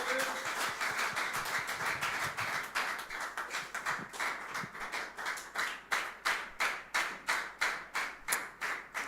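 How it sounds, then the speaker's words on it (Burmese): A church congregation at a Tuesday worship service claps together, a quiet, steady rhythmic pattern of hand claps that grows into sharper, evenly spaced beats near the end. "ကျမတို့လက်ခုပ်တီးလက်ကျူဆိုကြရအောင်"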